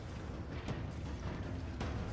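Explosions in the Resident Evil 3 Remake video game come through as a faint, low, rumbling roar with a couple of brief, sharper bursts, and no voices are heard.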